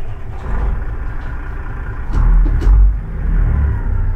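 A Kenworth truck fitted with a swapped Caterpillar C16 diesel engine starts up, giving a deep, loud rumble that swells midway and settles into a steady idle, heard close with no talk.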